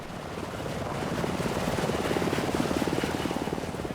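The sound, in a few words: rescue helicopter rotor hovering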